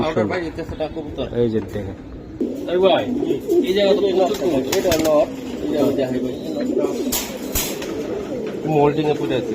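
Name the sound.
pigeons cooing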